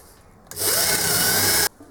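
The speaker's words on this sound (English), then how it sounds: "the holes I'm drilling are a little bit crappy" A single loud burst of power drilling into wood for patternmaking, just over a second long, starting abruptly and cutting off sharply, with a quiet background on either side.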